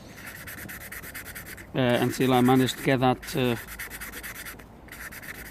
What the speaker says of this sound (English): so I'm sanding this on the inside